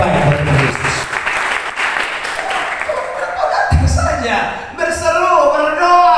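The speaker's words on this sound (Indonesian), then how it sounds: "Beri tepuk tangan terbaik bagi Kristus." A church congregation applauds loudly in a dense, sustained burst during a sermon, then the clapping fades as a voice starts talking.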